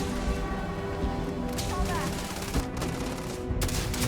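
Sustained rapid gunfire from a firefight in the video game Starfield, dense and loud throughout, with bursts, sharp cracks and booming impacts layered over game music and effects.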